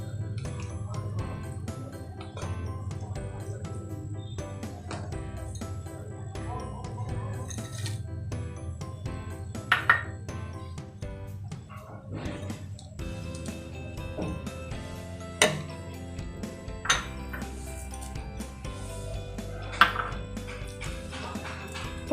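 A spoon scrapes and clinks against a pot while sweet zarda rice is stirred, giving light, irregular metallic taps and occasional sharper knocks over a quiet background with no speech.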